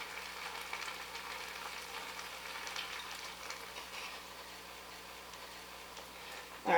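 Red wine hitting the hot bottom of an Instant Pot while beef stew fond is deglazed, a steady soft sizzle and hiss throughout, with a sharp clatter right at the end.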